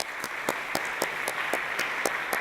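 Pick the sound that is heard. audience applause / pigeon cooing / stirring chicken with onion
audience applause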